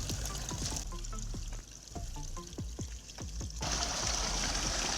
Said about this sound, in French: Ça part dans le puisard et puis c'est pas tuant quand même.